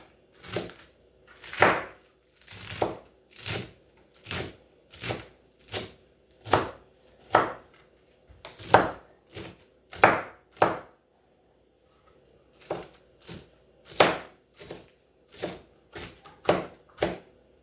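Repeated knife chops through vegetables on a cutting board, about twenty sharp thuds in a steady rhythm with a short pause midway, close and clear.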